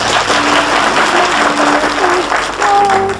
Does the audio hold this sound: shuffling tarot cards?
no